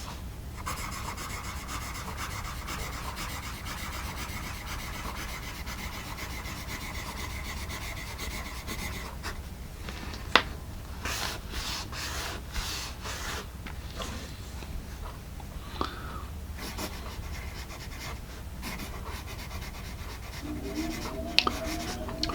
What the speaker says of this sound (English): we want to lay down some practice marks here.